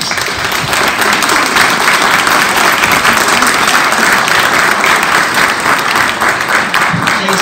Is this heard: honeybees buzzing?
no